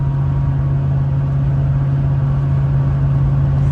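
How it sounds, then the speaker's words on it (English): Steady low road drone of a RAM 1500 pickup with a 5.7L Hemi and Magnaflow 3-inch exhaust cruising at freeway speed, a constant subtle exhaust rumble with tire noise louder, no voices. "You can hear how the exhaust is nice and subtle at freeway speed."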